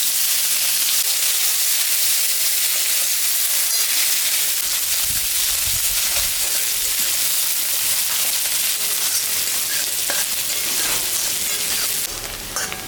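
Onion sizzles in hot oil with dried red chilli and cumin in a pan already used for frying fish, a loud continuous crackling hiss with occasional stirring, no talk.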